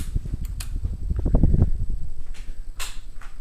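A 52-inch Hunter 5-Minute ceiling fan with bent blades runs at medium speed, giving a low whooshing hum with a rumbling wobble and a few faint clicks and rattles nearby.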